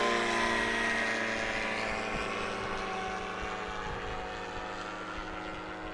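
A STOL aircraft taking off at the Swamp STOL competition in Jennings, Louisiana, its propeller engine droning loud and steady, then slowly fading as it climbs away.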